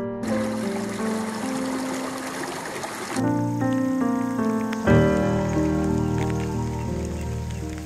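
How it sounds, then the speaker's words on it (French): A bucket of water tipped into a sink at a tipi camp, draining down to a barrel: a dense, splashing pour for about three seconds, then a steadier trickle under tonal background sounds. "je vais aller vider ma chaudière dans l'évier et ça va remplir le baril"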